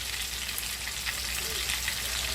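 Cumin seeds and curry leaves frying in hot oil for a malvani prawn masala, giving a steady, close crackling sizzle with no talk.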